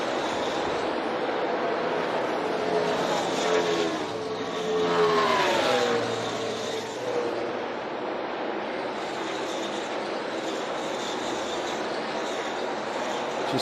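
NASCAR Cup Series race cars lapping the track in the closing laps, a continuous engine roar that swells as the pack passes mid-way, with a faint voice underneath.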